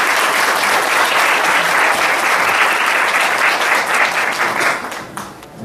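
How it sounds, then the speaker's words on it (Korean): A studio audience claps loudly and steadily at the opening of a Korean future-economy talk show, broad sustained applause that fades slightly near the end. "박수!"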